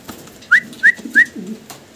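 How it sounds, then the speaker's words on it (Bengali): Large pouter pigeons at a pigeon farm give three short, rising, whistle-like calls, evenly spaced and close, over a low, quiet background. "ভিডিও স্ক্রিনে আমরা সিঙ্গেল এক পিস পটার কবুতর দেখতে পারতাছি, বিশাল বিগ সাইজের ভিতরে আছে"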